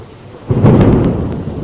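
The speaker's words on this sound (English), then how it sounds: "Up, and there's the thunder." A loud burst of thunder rumbles in close and lingers over steady rain during a thunderstorm near New Orleans, with a few sharp crackles near the start.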